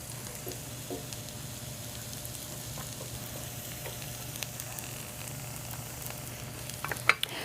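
Burger frying in a cast iron skillet, a steady close sizzle that holds evenly throughout, with a couple of small utensil clinks near the end.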